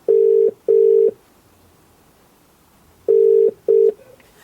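Phone dialing tones played through a Subaru Impreza car stereo, four loud steady beeps in two pairs with a quiet gap between them.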